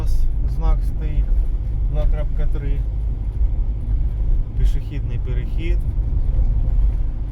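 Car driving in third gear along a main city road in Kropyvnytskyi, with a steady low engine and road rumble throughout and a voice talking over it.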